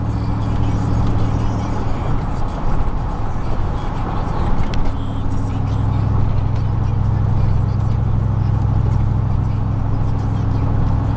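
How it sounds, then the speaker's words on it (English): Car exhaust roaring through a Magnaflow muffler with its fiberglass packing removed, a loud steady low rumble that swells slightly partway through, with no talking. "This muffler sounds a little bit beefier than I took the fiberglass out"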